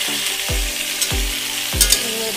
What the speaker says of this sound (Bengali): করলা আর আলুটা দিয়ে দিচ্ছি